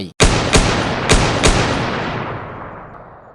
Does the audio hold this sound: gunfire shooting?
yes